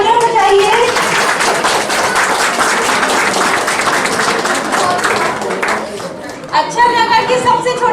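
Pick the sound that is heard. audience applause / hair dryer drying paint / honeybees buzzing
audience applause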